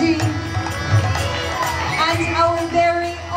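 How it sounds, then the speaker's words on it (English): An audience at a kirtan festival at a Dallas temple cheering with scattered shouts and whoops, crowd noise of moderate loudness with voices talking over it. "Let's have a big round of applause for Nityananda Prabhu and her grace"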